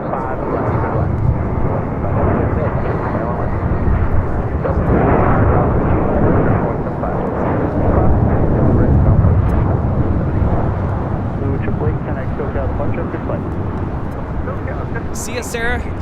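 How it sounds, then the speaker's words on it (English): A JetBlue Airbus A321 jet rolls down the runway for takeoff at LAX, a loud, continuous roaring rumble that builds and holds for many seconds, with a voice speaking over it. "JetBlue A321 rolling down 25 right. It's never a dull moment taking off to Boston."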